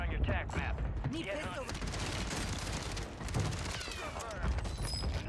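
Rapid bursts of FJX Horus SMG gunfire from Call of Duty Warzone ring out loud and dense, with overlapping shots and clattering mechanisms running throughout.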